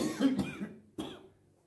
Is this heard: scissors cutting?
no